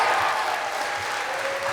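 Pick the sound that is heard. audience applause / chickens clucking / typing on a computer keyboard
audience applause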